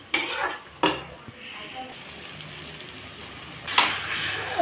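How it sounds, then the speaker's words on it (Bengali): Spice paste with turmeric and salt frying in a pan, soft continuous sizzle broken by a few sharp scrapes of stirring, fairly close and with no voices. "এখন আমি মশলাটাকে ভালো করে কষিয়ে নেব।"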